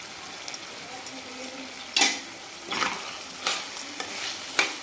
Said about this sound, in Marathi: कोथिंबीर टाकते थोडीशी आणि छान मिक्स करते याला